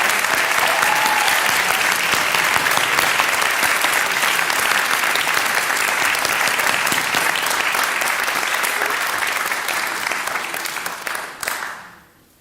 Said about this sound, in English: one last round of applause for all of our graduates, please